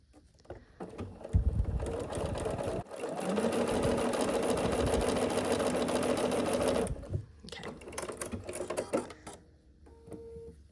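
Sewing machine stitching a half square triangle quilt seam, running in a steady fast whirring burst for several seconds, preceded and followed by short start-stop runs and soft handling clicks.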